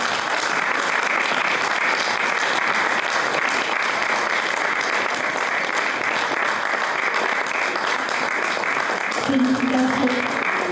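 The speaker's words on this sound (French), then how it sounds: "Je vous demande un tonnerre d'applaudissements pour lui." A theatre audience at the Mister Ruby National crowning gives sustained, dense applause, a loud continuous wash of clapping that runs throughout, with a voice briefly cutting in near the end.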